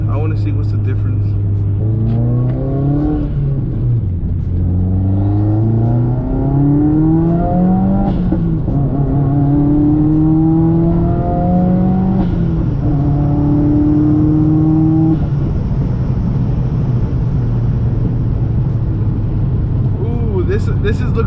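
A 400+ whp turbocharged Subaru WRX revs loudly through repeated climbing pitch sweeps and downshifts, with a steady heavy rumble throughout. It is heard close from inside the car, with turbo whooshes near the end.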